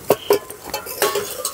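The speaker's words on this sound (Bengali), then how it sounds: "এবার ঢাকাটা একটু তুলে নেব।" A lid comes off a pot of cooking cabbage mixture: a few close metallic clanks and scrapes, then a light sizzle beneath, with no one speaking.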